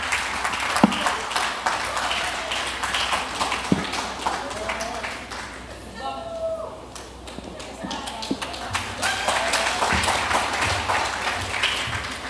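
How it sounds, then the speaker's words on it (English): A church congregation claps for the young fathers at a Fathers in Faith service, with irregular, scattered claps under steady talk that fades mid-way before clapping picks up again. "Let's give them a round of applause."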